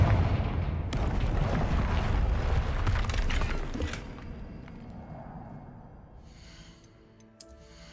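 An explosive spell cast in Hogwarts Legacy, a loud booming blast with sharp cracks that rumbles for several seconds, then fades to a quieter tail.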